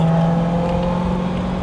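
A BMW E92 M3 V8 engine runs with a loud, steady, close droning hum that holds an even pitch throughout, with no other sounds over it.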